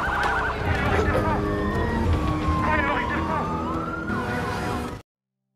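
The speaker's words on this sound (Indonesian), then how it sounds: "suara sirine polisi yang mendekat" A police siren wails continuously, its pitch sweeping up and down, loud and close, with engine rumble and other noise underneath, then cuts off abruptly.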